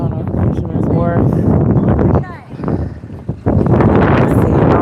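Strong wind on a ferry from Sausalito to San Francisco near Fisherman's Wharf roars and buffets the microphone in a steady rush while someone talks over it, briefly easing before gusting back.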